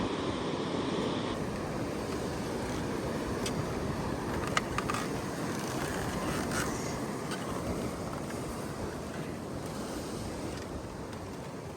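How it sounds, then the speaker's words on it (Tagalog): Strong ocean surf at Patar Beach in Bolinao, Pangasinan, a constant heavy roar of breaking waves mixed with wind buffeting the microphone, continuous and close with no voices. "Grabe yung alon."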